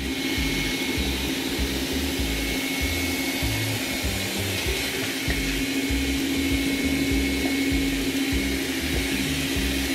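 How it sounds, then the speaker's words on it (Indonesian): A Xiaomi Mijia 1C robot vacuum cleaner runs in turbo mode with a constant, loud whirring fan roar and a steady high whine, close by and unbroken, with no talk over it. "Mode turbo kita dengarkan suaranya,"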